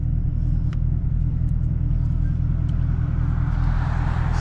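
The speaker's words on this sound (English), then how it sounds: "It's not my fault, my car is loud and fast" A supercharged Chevrolet Camaro ZL rumbles steadily while cruising, a loud, continuous low engine drone heard from inside the car.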